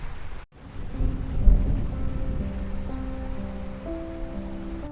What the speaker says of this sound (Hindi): जब मैं ये कहानी रिकॉर्ड कर रही हूँ तो मेरे सामने भी बारिश हो रही है